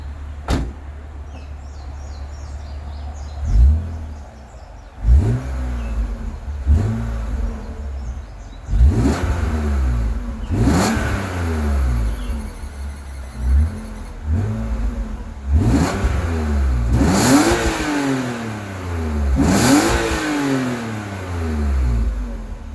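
A stock-exhaust 1999 BMW M Roadster engine revs up again and again in repeated rising sweeps, loud and close, each pull climbing higher before dropping back, with no talking over it.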